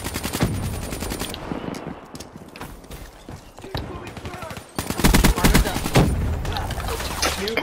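Rapid automatic gunfire in Call of Duty: Black Ops 3 multiplayer team deathmatch, loud bursts at the start and again near the end, with scattered single shots and game effects in between.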